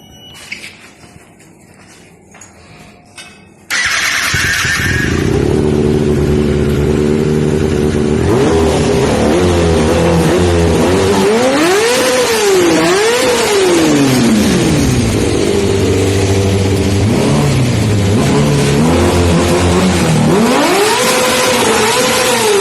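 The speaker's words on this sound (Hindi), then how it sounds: "सुपर बाइक का इंजन है ये कावासाकी ZX6R" A Kawasaki ZX6R superbike engine, a 636 cc four-stroke petrol unit, fires up after a quiet start and then idles loudly and close, with several sharp revs rising and falling across the run.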